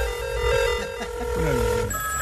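A mobile phone ringtone plays, a sustained electronic tone that shifts to a new, higher pattern near the end, with a voice talking underneath.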